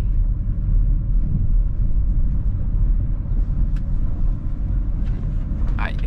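A BMW 320i rolls along a bumpy rural dirt road, its steady low engine and tyre rumble filling the cabin without pause, with a faint scrape near the end.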